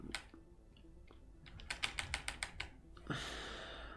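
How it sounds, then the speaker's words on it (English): Quick bursts of computer keyboard typing, crisp clacking key presses in a fast run, close and fairly quiet, with brief pauses and a faint rustle at the end. "Nice keyboard sound"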